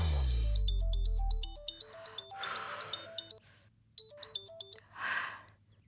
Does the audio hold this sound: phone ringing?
yes